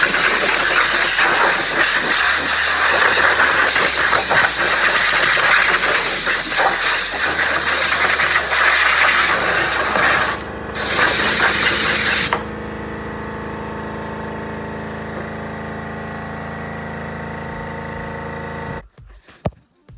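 An air compressor blows out compressed air in a loud, continuous, close hiss for about twelve seconds, briefly broken once. Then a quieter steady hum runs until it cuts off abruptly.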